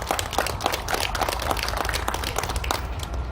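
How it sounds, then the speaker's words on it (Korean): A crowd applauds steadily at an outdoor founding ceremony and memorial service at Tapgol Park in Seoul, a dense, even patter of clapping without pause, moderately distant. "다시 한번 큰 박수 부탁드리겠습니다."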